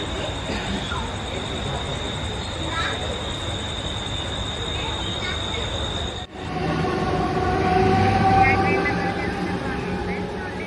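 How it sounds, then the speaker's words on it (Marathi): A Mumbai local train rumbles and rattles at a station platform, continuous and fairly loud, with a whining hum and faint squeals as it pulls in, while people talk nearby. "फायनली ट्रेन आलेली आहे आणि आम्ही आता लोकलमध्ये बसलेलो आहोत."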